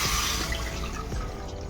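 Water poured into a cooking pan, a steady close hiss and splash running without a break, fairly loud and alone, without voices.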